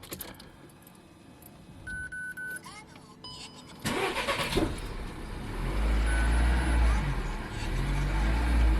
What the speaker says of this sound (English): So I gave it a little gas and it started.